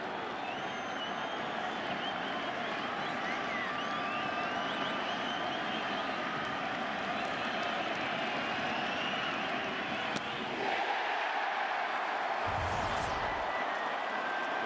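Steady stadium crowd roar at a rain-thinned baseball park during extra innings, a dense continuous hum of voices that stays loud, then briefly drops away near the end.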